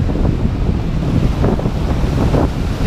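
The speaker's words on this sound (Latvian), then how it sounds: "Tāpat jau vējš tur pūš un neko jau dzirdēt nevar droši vien." Strong wind buffets the microphone in a constant low roar with gusty rumbling, no voices.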